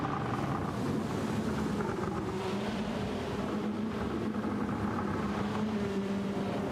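Racing cars in a video game roar steadily along a soaked track, spray hissing off their tyres in a continuous broadband wash with a droning engine tone beneath.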